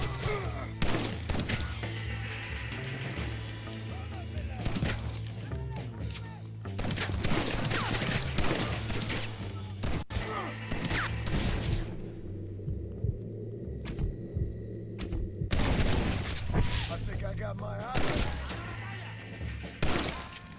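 Gunfire shootout in the video game Red Dead Redemption, repeated sharp shots and bursts over a droning low game soundtrack, with a person talking over parts of it.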